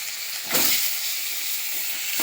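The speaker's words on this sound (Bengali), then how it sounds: "নিয়ে এবার একটু নুন হলুদ দিয়ে তেলের মধ্যে ভেজে নেব" Peeled boiled eggs drop into hot oil with salt and turmeric, setting off a loud, close sizzling hiss that surges briefly twice as they land.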